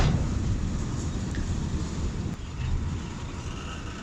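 A freight train stands at Mando Dairo railway station near Rohri, giving off a steady low rumble and hum with a brief faint clank partway through, fairly close and without voices.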